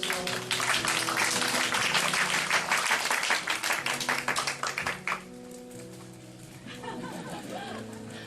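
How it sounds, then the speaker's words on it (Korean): A Korean church congregation gives a round of applause at a Sunday morning service, dense sustained clapping for about five seconds that then fades, with faint voices and tones underneath. "여러분 박수 한번 해주십시오."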